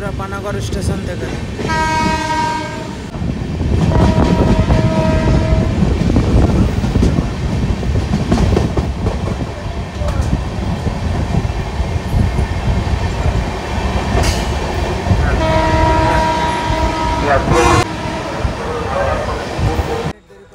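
Agniveena superfast express running fast out of Panagarh station, a loud, close roar of rolling wheels and rattling carriages with two long horn blasts, one early and one near the end.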